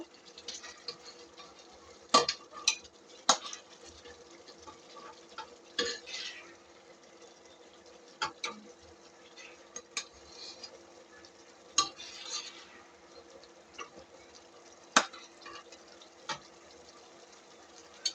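Fish sautés in a pan with a faint, low sizzle, punctuated by scattered clinks and scrapes of a utensil against the cookware.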